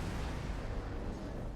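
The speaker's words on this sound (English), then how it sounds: "Explosion imminent." Explosion in a space battle game featuring the ASGARD vessel, heard as a dense, sustained low rumble with crackling bursts that roll on steadily for the whole stretch, fairly loud and with no voice over it.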